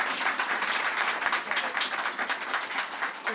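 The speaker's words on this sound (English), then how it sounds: "Ladies and gentlemen, give a round of applause for our Assembly member Latrice Walker" Applause from an audience at a public event honoring an assembly member, a dense, steady wash of clapping that carries on throughout with no talking over it.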